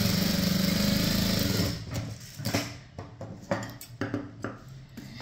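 A sewing machine stitches a blouse shoulder seam, first as a short steady run, then breaking into a series of quieter, irregular bursts and clicks at close range.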